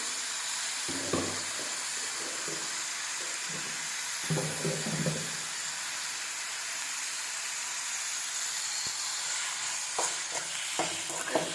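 Tomatoes with a pinch of salt frying in a pan for a country chicken curry, a steady sizzle and hiss with intermittent scraping and stirring clatters of a spoon, close by and without speech.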